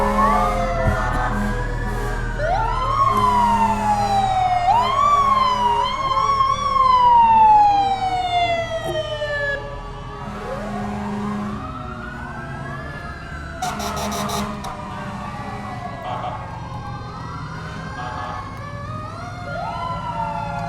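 Fire department sirens from Village of Mamaroneck units at a firemen's parade, wailing and yelping in repeated sweeps over steady truck engine rumble, loud and close throughout with a brief air-horn-like burst midway.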